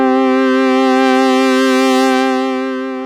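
Oberheim OB-X8 synthesizer patch with a slight LFO wobble, a loud, steady, buzzy sustained tone held alone for about three seconds before fading slightly at the end.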